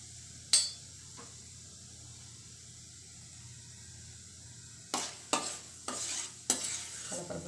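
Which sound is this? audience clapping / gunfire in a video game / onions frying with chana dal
onions frying with chana dal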